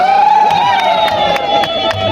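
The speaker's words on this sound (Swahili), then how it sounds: "Makofi na vigelegele." A church congregation greeting an archbishop bursts into loud applause and high, trilling ululation, the clapping and cries blending into a dense, close burst of celebration.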